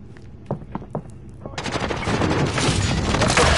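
Gunfire in the video game Warzone: a few sharp single shots come first, then dense, continuous automatic fire builds and stays loud to the end.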